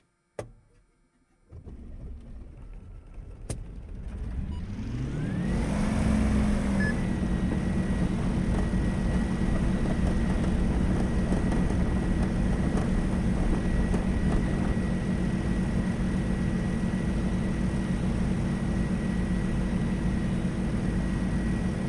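A Wilga aircraft's engine run up to full throttle in a glider simulator game, rising from quiet clicks into a loud, steady droning roar with a rising pitch sweep, then holding constant.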